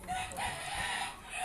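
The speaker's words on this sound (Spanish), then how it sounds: "Ahí ven su gallina mora que trajo de Dominicana." A gallina mora hen brought from the Dominican Republic, kept in a poultry shed in Trujillo, Peru, clucks faintly amid a breathy, noisy barn background with no talking.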